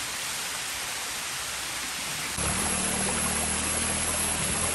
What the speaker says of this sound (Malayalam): നല്ല ഹൈറ്റിലാണ് വെള്ളം ചാടുന്നത് കേട്ടോ